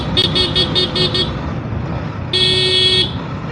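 Vehicle horn honking on a road during a ride on a Yamaha XSR 155: a quick series of short toots, a pause, then one longer sustained blast over low road and engine noise.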